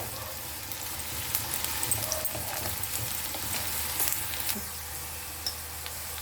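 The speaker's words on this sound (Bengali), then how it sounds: "পেঁয়াজটা ভালো করে ভেজে নেবো, একদম লাল লাল করে।" Onions fry in a pan with a soft, even sizzle that holds throughout, with occasional light stirring scrapes and no talk.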